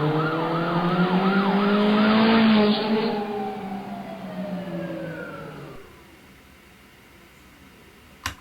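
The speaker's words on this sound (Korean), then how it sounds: "먼저 사이렌과 자동차가 달리는 효과음만 넣은 것입니다" A wailing emergency siren sweeps up and down over a rushing car engine as the vehicle speeds past and fades into the distance, ending in near quiet with a brief click.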